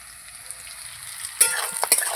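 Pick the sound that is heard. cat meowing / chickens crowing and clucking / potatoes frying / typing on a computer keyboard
potatoes frying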